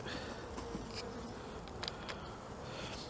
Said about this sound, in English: Yep, the bees are still drinking it.